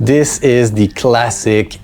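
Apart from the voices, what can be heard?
No distinct noise like a dog, phone or traffic.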